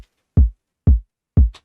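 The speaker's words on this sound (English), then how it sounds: "I've got a kick drum playing in a 4-bar loop." Deep, punchy electronic kick drum hitting three times in an even, steady pulse from a looped pattern, heard alone and loud with short decaying booms.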